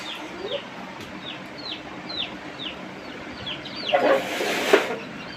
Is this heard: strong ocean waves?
no